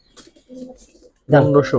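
A Giribaz coloring pigeon gives soft, faint cooing nearby, followed by a louder burst that sounds like a person talking.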